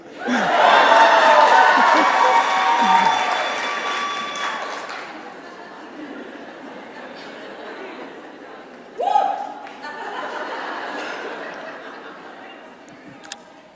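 A conference audience claps and cheers for Canadians, a loud burst of applause with shouts and laughter that fades after a few seconds into scattered crowd chatter and a short whoop.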